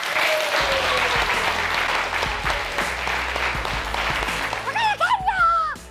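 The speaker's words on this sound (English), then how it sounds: "Can we please have a big round of applause for Olivia and Roman." An audience at a school event gives a sustained round of applause, dense and close, fading near the end as a voice begins speaking.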